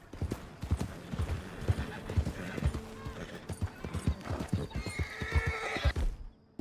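A horse in Red Dead Redemption 2 clops along with steady hoofbeats and gives a clear whinny, close and moderately loud, with no one talking over it.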